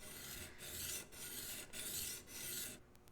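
A scrub plane iron's bevel being honed on a sharpening stone: steady back-and-forth rasping strokes, about five in a row with brief pauses, close and clear, followed by a few faint ticks.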